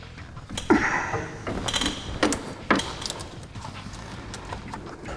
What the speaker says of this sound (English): I'm just going to use a set of adjustable wrenches, or adjustable wrench here, and just bust it loose.